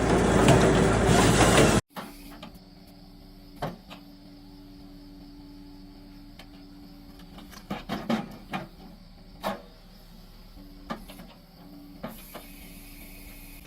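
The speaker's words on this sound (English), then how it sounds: "the blade slices through the log, which is then pushed onward into the splitting wedge" A Halverson HWP 140B firewood processor cuts and splits a log: a loud, dense saw roar for about two seconds stops abruptly, then quieter mechanical clunks and hydraulic knocks follow at irregular intervals. No one speaks.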